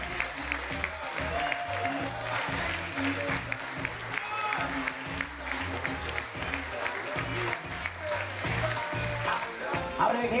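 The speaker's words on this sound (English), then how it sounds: "Round of applause for our bridesmaid, Kim Lane, escorted by usher Mike Newcomb." Wedding guests applaud a bridesmaid's entrance with sustained clapping throughout, mixed with music and talk over it.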